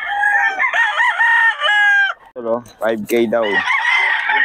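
Sweater-bloodline gamefowl rooster crowing at a busy gamefowl market in Bocaue, a loud nearby crow with a short pause midway, while someone speaks briefly over it.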